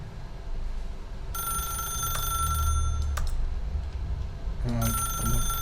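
A telephone rings in The Stanley Parable video game, two bursts of a bright electronic bell ring separated by a pause, over low ambient hum.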